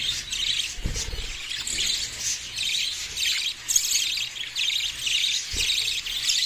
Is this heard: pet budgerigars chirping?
yes